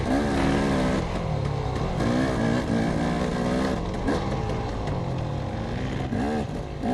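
A racing motorcycle screams past another rider during a Sportsman amateur GP race at Needmore, Fair Play, Missouri, its engine loud and sustained with rising and falling revs through gear changes, heard from onboard with no talking.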